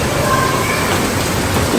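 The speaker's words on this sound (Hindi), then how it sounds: "गाइस कितनी बढ़िया तेज बारिश होगी" Heavy rain pours down in a dense, loud, unbroken hiss that does not let up, with no clear voices over it.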